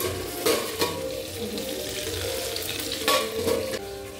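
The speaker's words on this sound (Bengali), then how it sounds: "তোমাদের মনে হয় পটল ভাজা হচ্ছে" Pointed gourd (potol) frying in oil, a steady close sizzle with brief louder crackling bursts as pieces shift in the pan, no voices over it.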